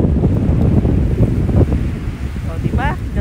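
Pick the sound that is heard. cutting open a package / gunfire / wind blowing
wind blowing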